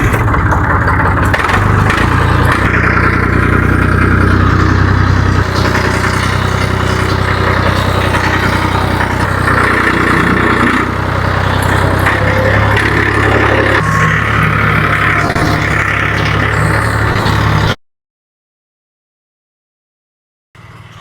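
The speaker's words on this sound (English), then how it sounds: "let's jump on the tractor and get back at the bush hogging" An old tractor engine drones steadily and loudly while bush hogging a field, a continuous low rumble that cuts out abruptly near the end.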